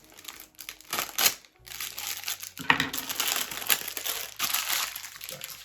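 Plastic packaging crinkles and rustles as a lost parcel is unwrapped, a bag inside another bag, with dense crackling bursts and a short pause, close and loud without talk.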